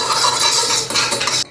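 Metal spoon stirring curd in a bowl to thin it like buttermilk, a steady close scraping and clinking rhythm that runs continuously and stops abruptly near the end.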